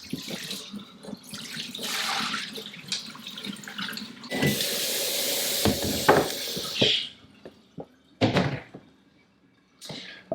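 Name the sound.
wool scouring water draining into a sink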